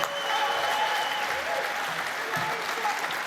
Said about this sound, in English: give a really special round of applause to everyone who was in that remarkable Silver Scrolls Orchestra and band